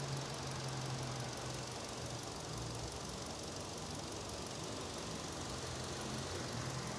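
A car engine idles steadily at low volume, a constant even hum with a slightly uneven rumble from a cylinder misfire linked to spark plugs, continuing unchanged with no voices.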